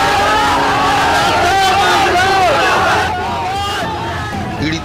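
Large crowd of protesters at a sit-in demanding justice in Churu, Rajasthan, a dense loud babble of many voices with raised shouts rising and falling throughout.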